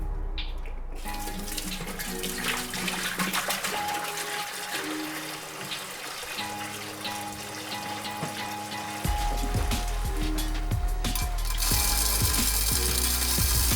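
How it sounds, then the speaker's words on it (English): Grain for brewing grinds and rattles in a hand mill with irregular ratcheting clicks, building to a louder, steadier crunching in the second half. "Grind the grain up."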